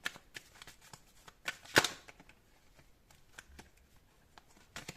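Tarot cards being shuffled close by: quick, soft riffling and flicking with one sharper snap, in a quiet room.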